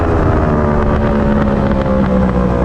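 Motorbike engine in a racing video game, a loud, steady high-revving drone with strong harmonic whine held at full throttle throughout, no talking.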